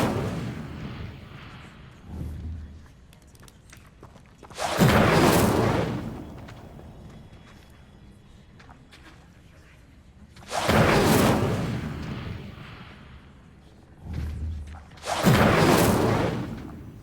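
Incendio fire spell cast in Hogwarts Legacy on Xbox Series X: three loud, booming whooshes of flame, each lasting about a second, separated by long stretches of low rumble.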